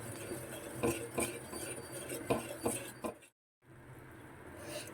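Malai and coconut mesub mixture stirred in a pan, with faint rhythmic scraping strokes of a spoon against the metal, a short silent gap, then softer stirring resuming.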